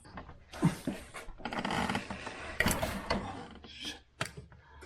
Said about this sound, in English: we're going to crack the fill one first, so that way we can make sure it loosens up